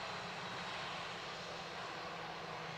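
A Ryanair airliner arriving from Manchester at Dublin Airport, its engines giving a steady, distant broadband roar that holds evenly throughout with no talk over it.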